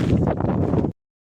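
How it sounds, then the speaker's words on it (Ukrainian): Strong, cold wind carrying fine rain roars and buffets the microphone in a dense, steady rush, then cuts off abruptly. "Такий вітер холодний, ще січе, такий мілкий дощ"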